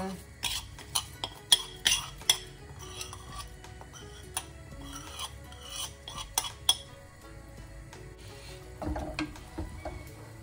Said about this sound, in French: Donc je mélange mon riz.